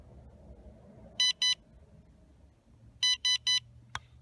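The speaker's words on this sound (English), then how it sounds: "even a longer press is going to beep 3 times this time" AOMWAY Commander V1 FPV goggles emit short, bright electronic beeps on a long button press: a close pair, a pause, then a quick run of three, followed by a brief click.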